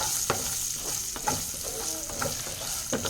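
Okra and dried red chillies frying in an air fryer crackle with a steady close sizzle, broken by scraping stirring strokes every second or so.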